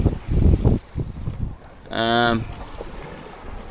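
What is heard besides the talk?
sailboat sailing at night in 13 knots of wind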